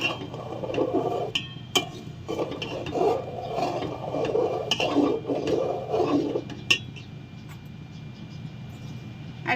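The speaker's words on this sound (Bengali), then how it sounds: "এবার ভালো করে আমি একটু মিশিয়ে দেব দুধ আর চালের সঙ্গে" A spoon scrapes and rasps steadily in a pot, stirring rice and milk together for Bengali payesh, with soft repeated strokes, near and fairly quiet, and no talking.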